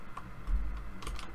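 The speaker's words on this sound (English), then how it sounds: "not having a good day typing today" A short burst of typing on a computer keyboard, a few quick, close, soft key clicks in an uneven rhythm with no talking.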